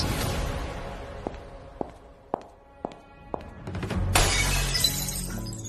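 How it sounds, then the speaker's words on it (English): Glass shatters with a sharp crash near the end, preceded by a handful of distinct taps and knocks that sound like footsteps across a hard floor, set in a mafia drama scene. "Behind me came the sound of Quentin smashing a glass."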